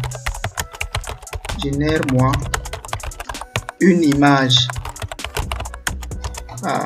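Rapid clicking keystrokes on a computer keyboard as a prompt is typed, close and crisp, in bursts under someone speaking French.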